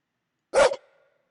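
A single short dog bark sounds in a circuit-building video game, one sharp clear yelp with a brief ringing tail over silence.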